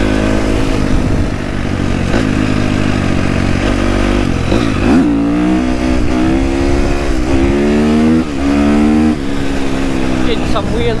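Husqvarna FC250 dirt bike engine revs hard while the rider pulls wheelies, loud and close, with repeated rising and falling throttle sweeps and a rough, clattering tone.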